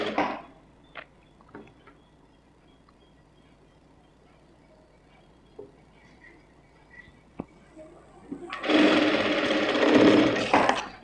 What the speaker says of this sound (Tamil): இந்த மாதிரி வச்சுட்டு நான் இப்போ எப்படி ஸ்டிச் பண்ணுறனோ அதை அப்படியே பார்த்துக்கோங்க